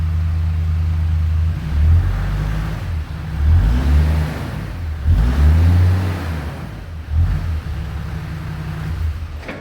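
Toyota HDJ80 Land Cruiser diesel engine with a faulty turbo, leaking everywhere, revving repeatedly in rising and falling bursts, a loud, close, rough low-pitched drone with no talking.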